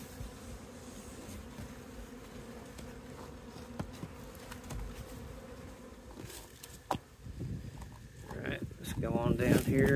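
Honey bees hum steadily at an opened hive, a near, continuous drone under occasional handling knocks, with a voice speaking toward the end.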